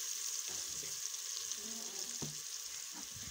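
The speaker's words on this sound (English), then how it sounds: "I stir up my onions" Onions frying in a pot over a village cooking fire, with a steady faint hiss broken by a few soft stirring scrapes and taps.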